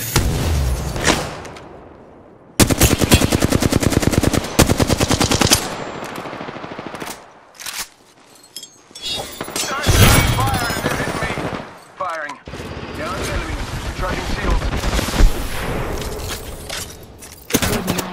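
Sustained automatic weapon fire in Apex Legends, long rapid bursts broken by short pauses, loud and close, with brief game voice lines in between.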